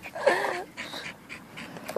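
Dogs outdoors panting and whimpering, with quick breathy pants and high thin whines close by, mixed with faint background noise.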